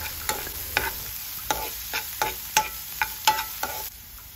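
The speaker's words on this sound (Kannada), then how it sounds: "ಹಾಗೆ ಒಂದು ದೊಣ್ಣೆ ಮೆಣಸನ್ನು ಚಿಕ್ಕದಾಗಿ ಕಟ್ ಮಾಡಿ ಹಾಕ್ತಾ ಇದ್ದೇನೆ, ಇದನ್ನು ಸಹ ಸ್ವಲ್ಪ ಫ್ರೈ ಮಾಡಿಕೊಳ್ಳಿ." Chopped capsicum and onion stir-fried in a pan for bread chilli, with a steady soft sizzle under about nine distinct scraping stirs of a spatula at an uneven rhythm, close up and with no talking.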